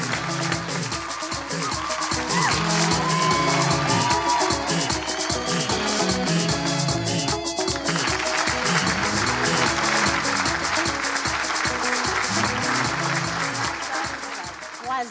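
A studio audience at a French live show applauds and cheers steadily over rhythmic music with a pulsing beat. The applause stays loud and continuous the whole time.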